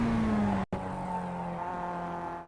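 Mazda MX-5 race car engine in the iRacing sim roaring at steady high revs on a straight, with a brief cut at an upshift followed by a continuous loud, close drone.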